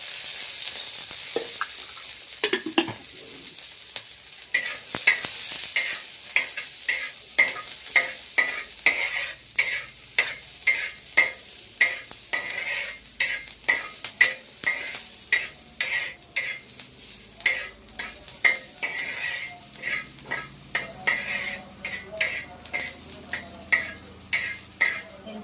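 Eggs frying in oil in a home kitchen pan while a utensil stirs and scrapes them, a constant sizzle broken by many quick sharp clinks that grow more frequent and rhythmic, close and loud with no talking.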